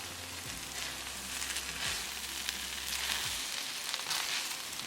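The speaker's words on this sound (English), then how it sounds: "I'll open it and I'll mix it." Shrimp fried rice in a pot gives off a faint, even sizzle with soft stirring swishes as it is mixed, heard alone and without voices.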